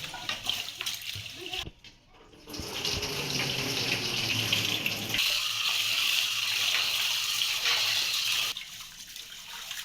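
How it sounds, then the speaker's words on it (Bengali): Rice being rinsed under a running tap, with steady water splashing into a vessel, briefly broken by a short pause before the flow resumes, close and moderately loud. "চাল নিয়ে নিছে, চালগুলো ধুয়ে নেবে ভালো করে।"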